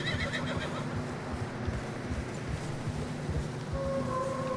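Horses whinny and neigh in a snowy setting in Red Dead Redemption 2, layered over steady hoof and movement noise, with a brief high call near the end; no talk.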